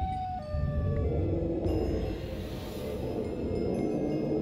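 The Siren Head monster in Minecraft lets out a loud, continuous wailing siren-like drone with shifting tones, close and sustained, with nothing else over it.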